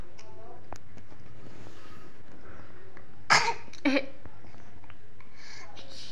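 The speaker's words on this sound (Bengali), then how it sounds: "ওরে ওরে কাশি হয়ে গেল" A baby girl gives two short coughs or splutters close by, brief bursts separated by a pause against a quiet room.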